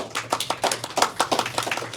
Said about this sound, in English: Dean deserves the applause